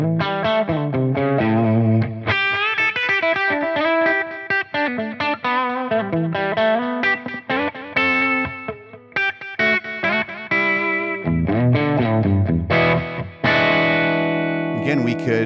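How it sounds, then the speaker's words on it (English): An electric guitar played through amp profiles with studio delay and reverb rings out in strummed chords and single-note phrases, each note trailing off in echoing repeats and a wash of reverb, with no one talking. "I've added in a little bit of their studio delay and a little bit of their studio reverb"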